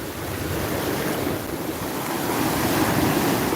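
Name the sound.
large ocean waves breaking on a beach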